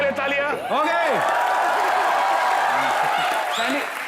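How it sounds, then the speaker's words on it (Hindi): Studio audience at a comedy talk show bursts into sustained, loud applause and cheering for actor Riteish Deshmukh, a broad steady wash over a few seconds, with a host's voice briefly heard at the start. "रितेश देशमुख के लिए तालियां"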